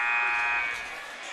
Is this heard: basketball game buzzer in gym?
yes